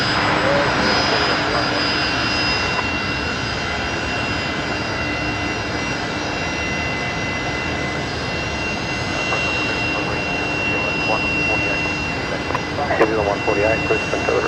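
An Airbus A321neo's jet engines at Brisbane Airport, a loud continuous roar and whine with a high tonal hum, steady throughout and swelling slightly near the end, with talk over it.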